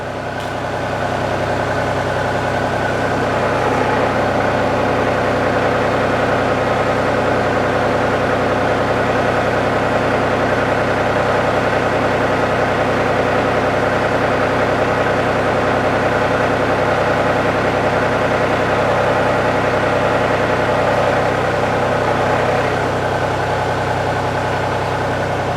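Two-speed winch running in low speed while pulling rope, a steady loud mechanical drone with a constant hum throughout, running alone without voices.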